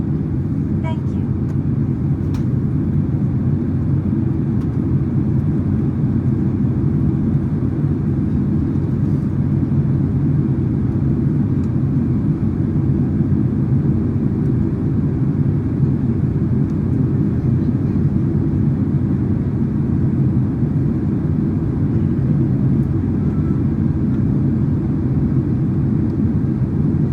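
Cabin noise aboard an ANA Boeing 767-300ER on landing approach to Tokyo Haneda, a loud, steady low roar of engines and airflow that stays unbroken for the whole stretch.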